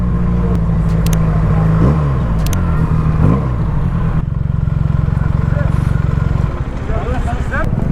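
A Benelli 302S motorcycle idles loudly up close and blips its throttle twice in quick rising revs, then settles into a dense, throbbing engine rumble.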